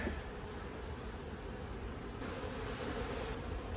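Honeybees swarm around an open hive box during a spring inspection, giving a steady, continuous buzz that stays close and fairly even throughout, with no talking.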